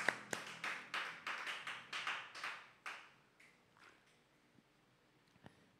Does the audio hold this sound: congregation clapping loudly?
yes